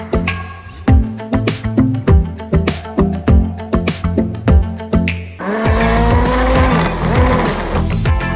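A go-kart engine running while driving, revving in rapid loud pulses that rise and fall, then holding a sustained high drone near the end.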